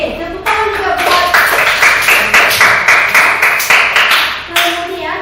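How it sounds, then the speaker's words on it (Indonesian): A classroom of children clapping together in a quick, rhythmic patterned clap, loud and close, with short bursts of sharp hand claps repeating in a steady beat, a voice briefly heard at the start. "tepuk tangan juga buat."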